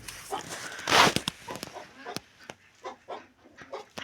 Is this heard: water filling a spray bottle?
no